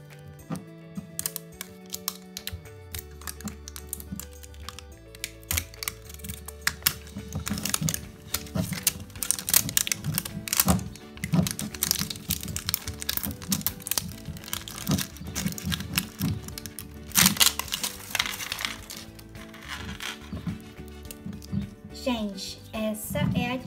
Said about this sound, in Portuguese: é muito difícil abrir esse zíper